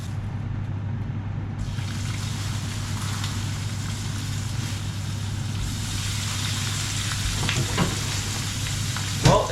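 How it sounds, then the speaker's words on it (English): Oil frying in a hot pan gives a steady close sizzle that grows busier and crackles more toward the end, with a low background hum and no talk. "The pan is just about hot enough now, ready to start frying."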